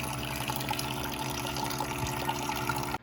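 Water running and pouring into a container to soak beans in a rustic cabin, a steady splashing gush that stops abruptly at the end, no talk.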